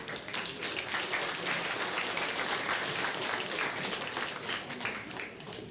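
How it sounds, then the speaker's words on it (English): Audience applause at the farewell session of the ENOG 7 meeting: a full room clapping steadily and loudly for several seconds, dense and even throughout with no break. "So give yourselves a clap for turning up here."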